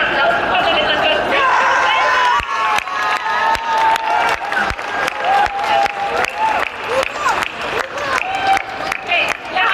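A crowd applauding and cheering steadily, loud and close, with claps and shouts filling the whole stretch.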